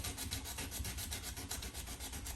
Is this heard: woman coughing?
no